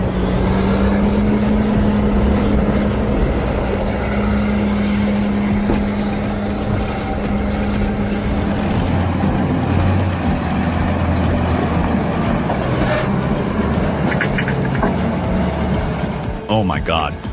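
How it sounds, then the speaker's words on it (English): Heavy diesel engine of a Volvo L220F wheel loader working under the strain of loading a 28-ton marble block, a loud steady rumble with a low droning tone early on and shifting engine load, with voices talking over it. "a 28-ton marble block is being loaded onto the Volvo L220F"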